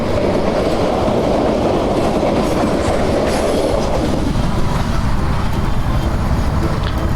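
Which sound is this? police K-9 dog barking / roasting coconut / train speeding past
train speeding past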